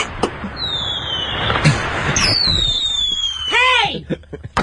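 Fireworks whistle in long gliding streaks and crack with sharp bursts and pops, a few separate shots spread across the moment, with voices talking around them.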